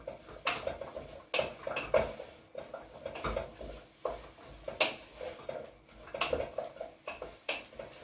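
A spoon scrapes and knocks against the bottom of a saucepan of Mexican-style beef stew in repeated irregular strokes, fairly faint with scattered metallic clinks.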